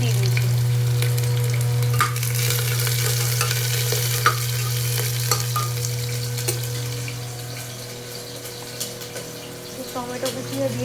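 Chopped onion and a little sugar fry in hot oil with whole garam masala spices for a mutton curry, a steady sizzling hiss with scattered pops and stirring clicks, a voice speaking faintly over it.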